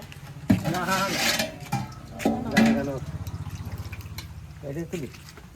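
Water is tipped out of a container holding freshly caught fish, giving a brief splashing pour near the start while someone talks nearby for most of the clip.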